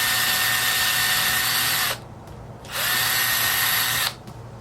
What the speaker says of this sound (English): just take your drill. And don't go too deep if you can help it.